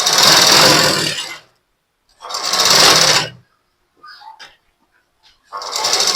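A sewing machine stitches a blouse sleeve in three bursts of fast mechanical whirring and clatter, each about a second long, separated by quiet pauses with faint handling clicks.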